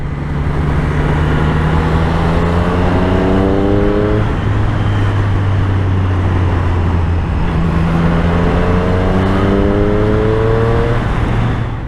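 Triumph Street Triple motorcycle engine under way on a road ride, its tone rising through gears in two long climbing sweeps, loud and steady with wind rush and no talk.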